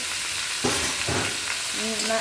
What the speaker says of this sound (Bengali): কাঁচা লঙ্কা, কুমড়ো ফুল, তেল, কালা জিরা, শুকনো লঙ্কা সবগুলি একসঙ্গে ভাজা হবে।